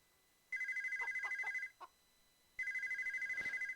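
Video game telephone in Pippa Funnell Ranch Rescue: a synthetic trilling ring in two bursts, each about a second long with a brief gap between, clear and alone with a faint click in the pause.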